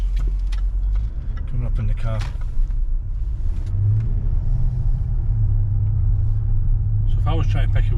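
A Range Rover L405 engine is held at steady throttle, giving a low, sustained idle-to-rev drone with a rumble under it. Voices talk over it near the start and end.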